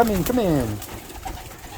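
Pigeons coo in a loft after their first PMV vaccination, a couple of rolling calls up close at the start that fade into soft background noise.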